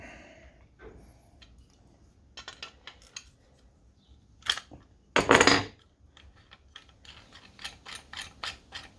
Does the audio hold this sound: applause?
no